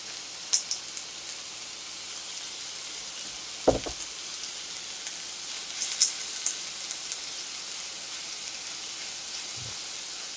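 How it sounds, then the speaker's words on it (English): Turkey chops sizzle in a hot pan with a steady, soft hiss, broken by a few light clinks and knocks. No one speaks. "y'all hear that sizzle? That's how you know your pan is definitely ready to go"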